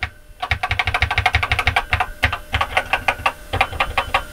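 Rapid clattering keystrokes on an Acorn Electron home computer keyboard, some keys unresponsive, tapped in quick bursts with a few short pauses, close and fairly loud with no voices.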